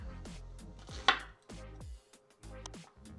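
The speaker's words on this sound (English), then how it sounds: "Cutting a red onion." A knife chops a red onion on a cutting board in a series of crisp, close, separate cuts with brief pauses between them, with no voices.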